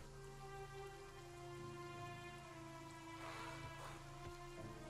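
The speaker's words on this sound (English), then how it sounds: "It may be raining down there, Victor, but up here..." Steady rain falls in the video game Victor Vran, a dense continuous hiss running evenly through the whole stretch under tonal game music, with no voices.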